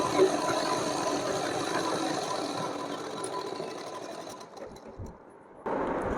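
An electric sewing machine stitching a cotton outfit for a Laddu Gopal idol runs in a steady, close whirring drone, briefly easing and dipping near the end before resuming at full speed.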